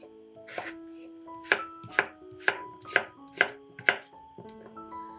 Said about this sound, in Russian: 500 грамм картофеля нарезаем небольшими кубиками.